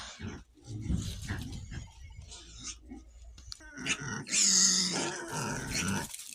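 Pigs grunt and snort up close in irregular bursts, with a louder squealing outburst partway through, and no talking.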